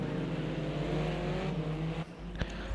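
Touring cars race through the last chicane, engines droning steadily at close range before easing off. A sharp burst is heard near the end.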